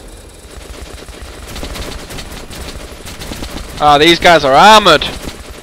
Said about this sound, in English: Still no match for my Gatling gun!